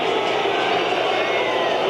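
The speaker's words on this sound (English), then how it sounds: "the crowd, at least those Koreans in the crowd, voicing their displeasure with Germany's tactics" A football stadium crowd at a 1994 World Cup match between Germany and South Korea makes a steady, loud roar of disapproval, a dense wash of many voices with no break.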